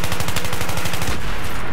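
Rapid automatic gunfire in the video game Battlefield 3 on the Tehran Highway map in Rush Hardcore mode, a loud, close burst of evenly spaced shots lasting just over a second before fading into echo.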